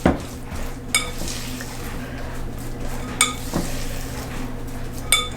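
Sugar-free chocolate chips being mixed into keto cookie dough in a bowl, a soft continuous stirring scrape broken by a few sharp clinks of the utensil against the bowl, close and fairly quiet.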